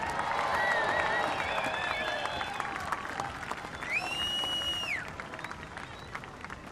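A crowd claps and cheers for the runner-up at a professional surf contest finals day, a steady outdoor wash of applause with whoops and a few shouts, gradually fading.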